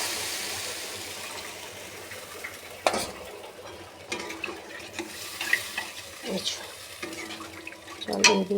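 Water is poured into a pan of frying potatoes, sizzle and stirring scrapes building into a gush and bubbling burst near the end, with a voice speaking briefly.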